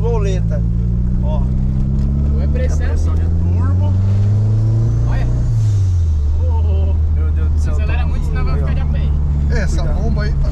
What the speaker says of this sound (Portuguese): Pressão de turbo.